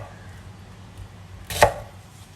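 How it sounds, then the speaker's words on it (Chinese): A single firm knife chop cuts through a large onion on a cutting board, one clear thump against a quiet background. "大洋葱，把这个蒂给去掉。 我们把它切小，"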